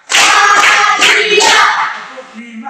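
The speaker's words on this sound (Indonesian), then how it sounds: "Untuk itu kita beri 5 kali tepukan untuk kita punya semangat pagi ini" Students in a classroom clap together on a count, several loud, close bursts of unison hand claps in quick succession that trail off into quieter murmuring.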